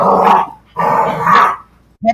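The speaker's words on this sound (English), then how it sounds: "Puppies are really getting into it today" Puppies growl and bark in three rough, throaty bursts separated by short pauses. The sounds are close and fairly loud, and the last burst is brief.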